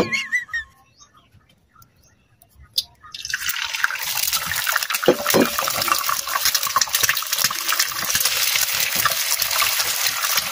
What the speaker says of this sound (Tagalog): So, puputang ko og oil. Then maprito ko og egg.